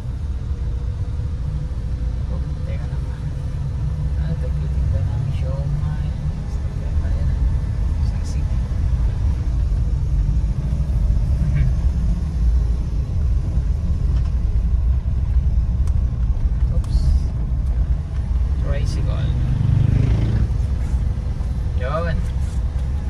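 A Suzuki DA64V minivan drives along a road with a steady low engine rumble and road noise from inside the cabin, while someone talks over it now and then.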